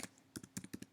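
Quick keystrokes on a computer keyboard while typing Java code, a handful of crisp close clicks in uneven pairs over under a second, no voice.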